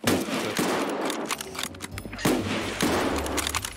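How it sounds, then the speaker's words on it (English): Mosin bolt-action rifle fire in the Escape from Tarkov shooter, a rapid string of loud gunshots and battle noise with overlapping reports and no pause between bursts. "Mosin v. Mosin! Mosin battle!"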